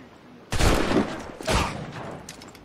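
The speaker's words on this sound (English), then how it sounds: "we got multiple people shooting at us" Gunfire from several shooters in the game Assassin's Creed 4, two loud booming volleys about a second apart, each trailing into crackling echo.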